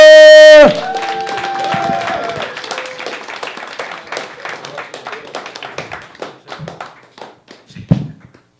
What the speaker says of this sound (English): help me welcome with a big round of applause our resident mustache man